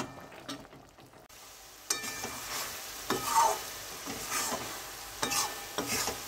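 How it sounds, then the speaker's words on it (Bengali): Papaya pieces being stirred in thickening syrup in a wok, with soft scraping and wet sizzling strokes at an irregular rhythm, close and moderately quiet, no voices. "এবার রসটার সঙ্গে পেঁপেগুলো নেড়ে নেড়ে রসটা সবটা শুকিয়ে নেব।"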